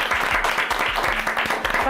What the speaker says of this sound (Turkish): onlara bir alkış alalım